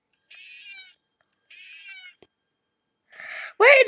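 Four cartoonish meows from a cat in the horror puzzle game Friday the 13th: Killer Puzzle, two drawn-out cries, then a pause and two sharper, louder mews close together, with silence between and no talking.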